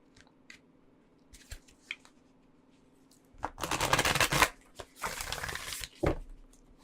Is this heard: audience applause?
no